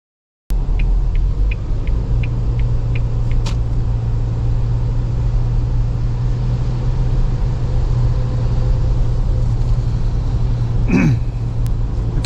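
Cabin of a 2022 Isuzu Mu-X LSE 4x4 SUV cruising on a highway: a steady low engine and road rumble with a constant hum continues throughout, fairly loud and unbroken, with a brief click near the start.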